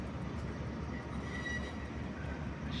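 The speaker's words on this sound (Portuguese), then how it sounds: "O trem chegando" A train pulls into a small station on its way back from São Paulo, heard as a faint, steady low rumble of rolling cars from a distance, with no talking over it.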